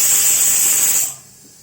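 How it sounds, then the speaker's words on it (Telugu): Tomatoes dropped into hot tempering oil give a loud bright sizzle and hiss that cuts off abruptly, leaving a faint quiet background. "టమాటాలు వేసాను, పోపు వేగుతోంది"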